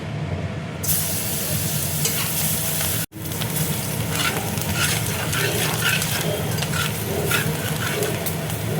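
Flour mixture with chopped green chilli sizzles and fries in a pan, a steady crackling hiss with repeated scraping stir strokes, close and continuous, with a brief cut partway through.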